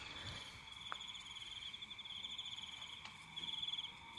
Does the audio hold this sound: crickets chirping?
yes